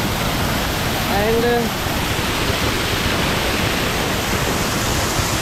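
Bilkas waterfall near Peth and Harsul pours with a loud, steady broadband roar that fills the whole clip, with a brief spoken word over it early on.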